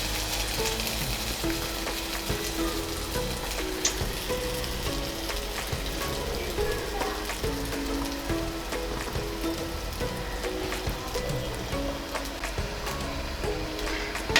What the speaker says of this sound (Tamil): எண்ணெய் சூடாகிடுச்சு. நம்ம இப்போ வடை போட்டுக்கலாம்.